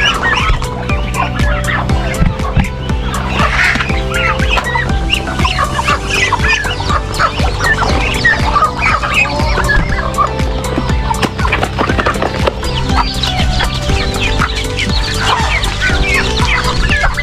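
A dense flock of chickens and lively young chicks clucking and cheeping together in a coop, a loud, steady and continuous chorus close by with no talking.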